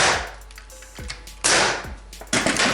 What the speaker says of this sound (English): I go ahead and air nail it